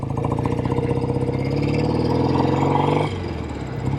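A rare 1967 BSA Spitfire Special MkIII motorcycle engine pulls steadily and loudly while being ridden, with a dense throbbing drone that drops in pitch at a gear change near the end.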